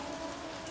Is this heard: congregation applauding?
no